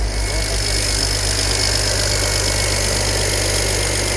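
A BMW 7 Series that has been in a crash idles with a loud, steady engine drone and faint knocking vibration, heard close and uninterrupted, with no talk.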